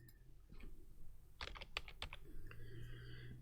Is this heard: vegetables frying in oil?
no